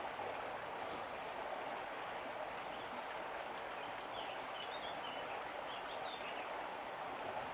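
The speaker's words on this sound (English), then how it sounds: "the sound of the river feels more intense" A river rushes steadily outside a homestead shed that has glassless windows, its broad, even wash of water staying constant and moderately distant the whole time, with no voices.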